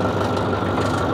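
An old tractor engine runs during tobacco rotary tilling in 2023, a continuous loud, rough low rumble that holds steady and close for the whole brief moment, without speech.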